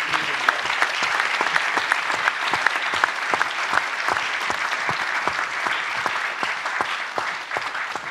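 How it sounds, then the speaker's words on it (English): A large audience claps steadily at the close of a panel debate at a festival event, dense and sustained applause with sharp hand-clap transients throughout, tapering slightly near the end. "So please give an applause,"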